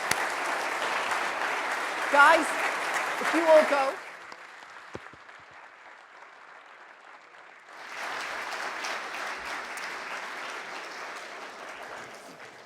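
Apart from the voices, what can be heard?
audience applause at embassy conference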